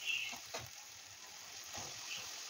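Boiled, drained chickpeas drop into oily masala in a pan, setting off a soft, steady sizzle with a couple of brief scraping stirs, faint and close with no talk.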